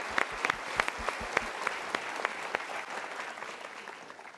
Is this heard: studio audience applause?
yes